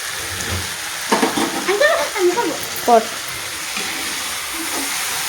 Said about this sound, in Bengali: এই যে ডিমগুলো দিয়ে দিলাম দিয়ে একটু মেরেচেড়ে ভেজে নিয়ে নামিয়ে নেবো